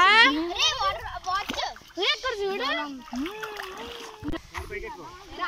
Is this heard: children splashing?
yes